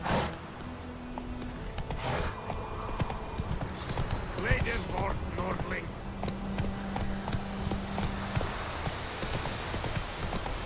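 Roach, Geralt's horse in The Witcher 3, gallops with a brisk clip-clop of hooves, a mid-distance rhythmic beat under in-game ambience and a voice talking over it.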